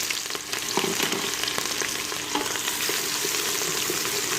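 Onions hit hot ghee in a pressure cooker and fry with a loud, dense, continuous sizzle and crackle, close up, with light stirring scrapes running through it.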